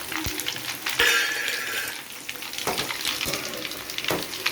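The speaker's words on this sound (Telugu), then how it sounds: "ఇప్పుడు ఎండుమిర్చి వేసేస్తాను" Dried red chillies crackle and sizzle in hot oil for tempering an amla pickle, a steady bright frying hiss with a few sharp pops and stirring clinks throughout.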